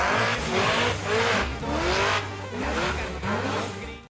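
A supercharged Chevrolet Silverado truck rips down a street, its engine roaring loud and close with surging revs and a tire squeal, in repeated pulls.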